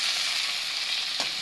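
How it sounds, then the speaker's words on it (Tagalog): Kangkong (water spinach) stalks hitting a hot pan while cooking adobo, a loud steady sizzle with a brief rustle of stirring near the end, close and continuous. "Siyempre, ilagay na po natin yung kangkong."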